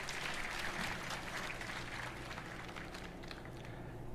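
Applause from a live audience at the Roblox RDC developer event, a steady wash of clapping that holds for the whole stretch and thins slightly toward the end, with a faint voice underneath.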